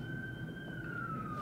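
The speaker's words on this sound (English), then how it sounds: "That's a police siren." A New York City police siren holds a steady, slowly falling wail, loud and close over constant low street traffic noise.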